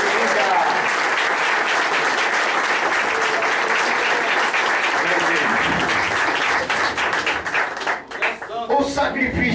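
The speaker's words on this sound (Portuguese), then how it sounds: "Vamos aplaudir o Senhor?" A church congregation applauding, a dense sustained wall of clapping from many hands that thins into scattered claps near the end, with voices mixed in.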